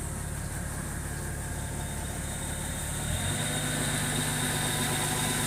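The single-cylinder engine of a Kubota DC70G rice combine harvester idles with a steady, low, rough hum that shifts slightly partway through and continues without stopping.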